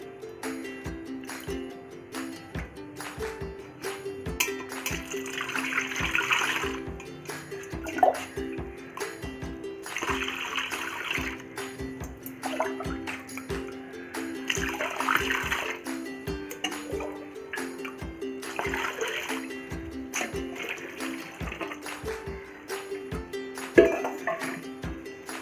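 Soaked nannari root water is poured through a water strainer into a vessel, giving a steady trickling and splashing stream with occasional clinks of the container, close and continuous.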